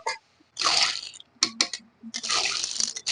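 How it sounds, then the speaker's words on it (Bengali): Water is poured in short bursts into a pan of gujuri curry to make gravy, a near, splashy hiss that starts and stops with quiet gaps between pours. "তো এখানে আমি এখন জল দিয়ে দেবো ঝোলের জন্য"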